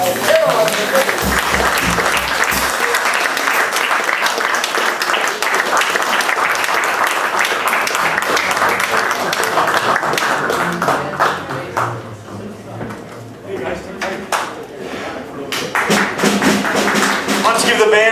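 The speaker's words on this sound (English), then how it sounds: "Let's give the band a big round of applause." A room full of listeners gives a jazz house band a loud round of applause at a memorial concert. The clapping is sustained, dips briefly partway through, then swells again, with voices audible in the mix.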